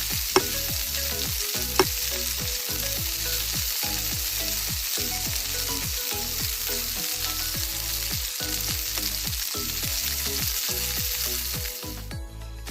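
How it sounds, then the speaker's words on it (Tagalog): Potatoes frying in hot oil toward golden brown, a loud continuous sizzle with rhythmic stirring clatter, no talking. "Iprito muna natin ang ating patatas hanggang ito'y mag-golden brown."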